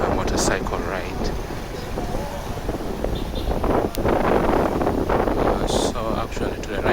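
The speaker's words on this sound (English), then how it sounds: "Even as I speak, I'm on the back of a motorcycle ride." Ride on the back of a motorcycle taxi through Kampala traffic, with steady wind buffeting the microphone and a continuous road and engine rumble. Brief louder whooshes from passing vehicles break through.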